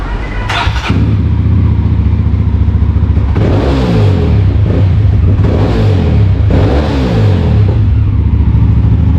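A Mahindra Mojo motorcycle fitted with a racing-spec half-throttle starts up and revs hard, with a loud close engine note rising and falling in repeated sharp throttle blips over a steady idle rumble.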